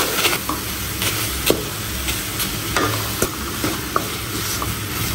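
Cooked greens being pressed and fried dry in a pan, a steady sizzle with scraping stirs and occasional sharp taps of the utensil against the pan.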